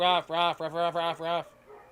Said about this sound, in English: We don't need him barking too.